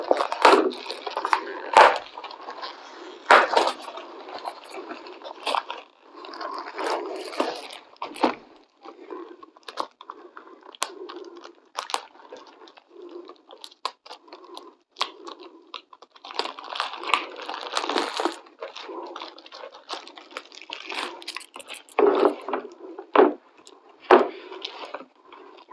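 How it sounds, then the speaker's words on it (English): A Yoo-hoo drink multipack's plastic packaging being torn open, bursts of crinkling, ripping and rustling in irregular spurts with quiet gaps, close up, no talk. "I'm going to tear into the packaging here."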